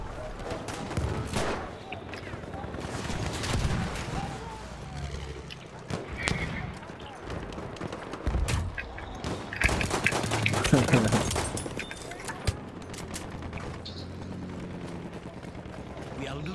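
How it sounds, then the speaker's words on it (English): Battlefield 1 gunfire rattles almost continuously, dense volleys and sharp cracks with occasional heavier booms, mixed with people talking over the fighting. "I'm trying to shoot at you"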